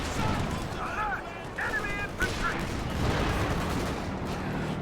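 A Panzerwerfer rocket barrage in Company of Heroes pounds continuously as dense rumbling explosions in the distance, with a voice speaking over the din.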